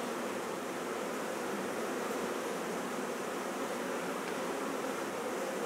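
Honey bees swarm and buzz around a hive during a queen transfer into the bottom box, giving a dense, steady drone that holds close and loud through the whole stretch with no talk.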